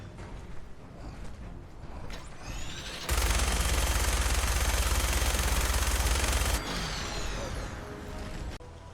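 A minigun in Fallout 4 fires standard 5mm ammunition in one sustained, dense burst of rapid shots lasting several seconds, loud and close, with quieter mechanical whirring before and after.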